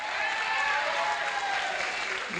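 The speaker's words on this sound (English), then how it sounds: "Give them a big round of applause." A crowd claps steadily and loudly throughout, a dense wash of applause with some voices mixed in.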